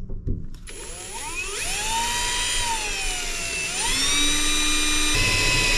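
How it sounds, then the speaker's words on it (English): A power drill bores a hole through the metal body of a micro camper van during a bonded window fitting, its high whine rising and bending in pitch, loud and close, after a brief thud at the start. "drill yourself a hole"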